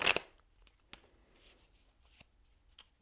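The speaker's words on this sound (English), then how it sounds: "I've already pre-shuffled the cards. I'm just going to continue to do so as I go." Tarot cards being shuffled by hand, a short flurry of riffling followed by a few soft, sparse card snaps and slides, close and quiet with no talking.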